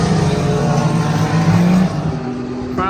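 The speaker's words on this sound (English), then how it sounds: "Finally got some cars on the track here." Race cars circle a dry road course at the Sahlen's Six Hours of the Glen 2024 endurance race just after a rain delay, with a steady loud engine drone and tonal whine as cars run past, no talk.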